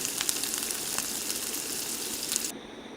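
Beaten egg fries in the leftover oil from frying prawns, giving a steady close sizzle that drops off abruptly near the end.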